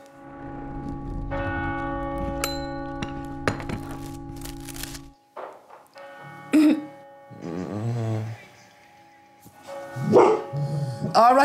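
A dog barks repeatedly over the ringing of a church bell during the Angelus, with bell tones sustained at first, then barks joined by brief voices.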